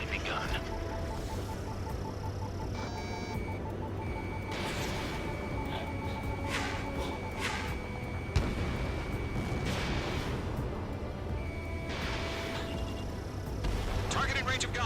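Anti-aircraft guns fire in the Ace Combat 7 battle, with repeated sharp bursts and thuds over a steady roar of jet and battle noise, partly under radio voices.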